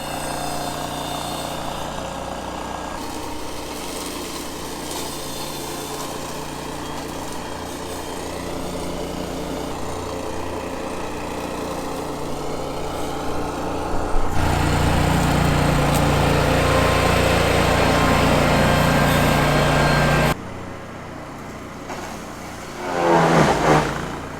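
A Tough Cut mower grinding down a tree stump, a loud engine drone with harsh grinding that swells, shifts pitch, cuts off abruptly near the end, then briefly rises again.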